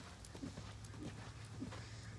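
Horse hooves beating in a steady canter rhythm during a jumping school session with a six-year-old horse and amateur rider, soft repeated thuds under a low background hum.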